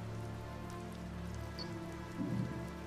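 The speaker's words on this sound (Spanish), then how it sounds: "La lluvia empieza a golpear las vidrieras." Rain beating against the stained-glass windows of a building, a steady patter that swells briefly near the end with a low rumble, heard alone without voices.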